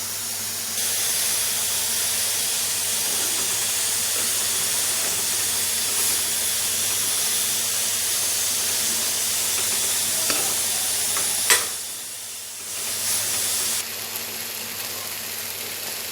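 Banana flower and potatoes frying with turmeric and salt hiss loudly as water hits the hot pan, a dense, steady close sizzle with a brief stir and clatter near the end and no talk.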